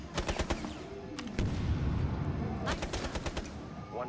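Gunfire in the video game Rainbow Six Siege: sharp bursts of automatic shots crack in clusters over a rumbling background, mixed with in-game sounds.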